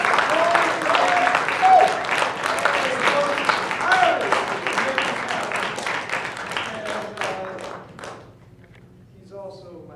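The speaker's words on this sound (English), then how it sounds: "we need a big round of applause for Tom Wilson" A crowd at a jazz revue gives a big round of applause for Tom Wilson, dense sustained clapping that fades out near the end, with a few voices mixed in.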